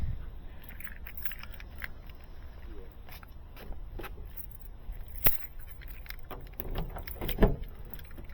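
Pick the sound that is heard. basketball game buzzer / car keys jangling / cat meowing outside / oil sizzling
car keys jangling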